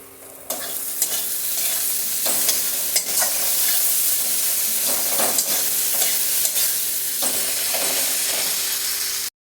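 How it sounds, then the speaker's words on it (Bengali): Spice masala with tomato frying and being stirred in a pan for a taro and potato dish, a steady close sizzle broken by repeated scraping strokes of the spatula, no voices. "মশলা আমার খুব ভালোভাবে কষানো হয়ে গেছে"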